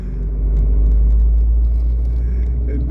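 Abarth 595C Turismo convertible engine running in normal mode, a steady loud low rumble with road noise, heard from inside the car with no voices.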